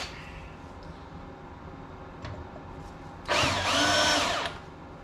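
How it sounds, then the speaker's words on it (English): A Harbor Freight power drill spins up for a single burst of a little over a second, whining loudly near the mic against a quiet workshop background. "What is wrong with this drill?"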